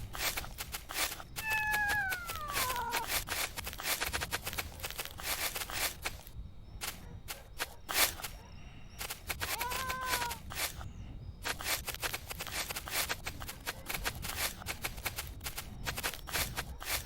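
A kitten in the video game Little Strays gives two short, high, gliding meows over a busy stream of rapid clicking and rustling game sounds.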